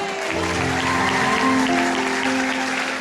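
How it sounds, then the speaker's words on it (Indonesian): Middle and high school students at a revival gathering applaud in a steady, continuous wash of clapping, with sustained musical tones playing underneath. "Tepuk tangan."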